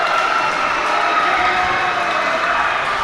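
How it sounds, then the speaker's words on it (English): A volleyball crowd at a Truman vs. St. Joseph Central match erupts in loud, sustained cheering and applause after a kill shot, a dense roar of voices that holds steady for the full span. "The crowd absolutely erupted right there."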